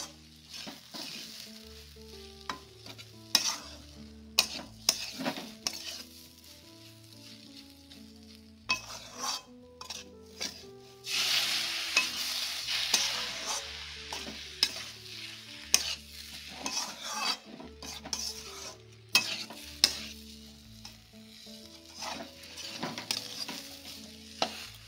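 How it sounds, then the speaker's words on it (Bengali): A spoon stirs semolina cooking in water in a pan, making repeated scraping strokes and clinks against the metal over a soft sizzle, with a low rhythmic background throughout and no speech. "নাড়তে নাড়তে নাড়তে নাড়তে এটাকে ঝুরঝুরে"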